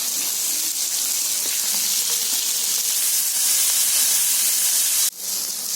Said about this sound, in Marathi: आता याच्यामध्ये कांदा भाजते